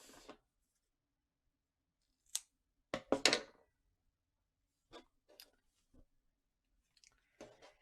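Scissors snip off the yarn ends after the garter toe of a knitted sock is finished, giving a few small, sharp snips spaced apart in a quiet room.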